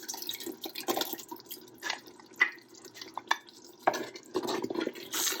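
Tomato soup gets stirred in a pot, with soft irregular scraping, clinks and liquid sloshes close by, fairly quiet and with no talk.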